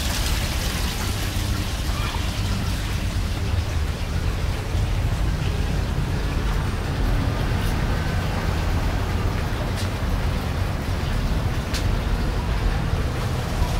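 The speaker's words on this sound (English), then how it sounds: "Waterfall." A backyard waterfall pours in a steady, broadband wash of rushing water that fills the whole stretch, loud and continuous with no breaks.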